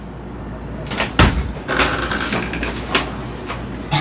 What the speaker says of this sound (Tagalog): Ayun na, may kumakatok.